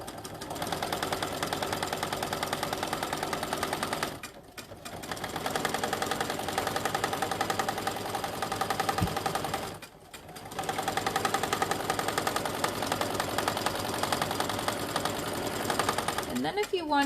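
Sewing machine stitching the side seam of a fabric tote bag, a steady continuous mechanical whir running in long stretches with two brief pauses, close and fairly loud with no talk over it.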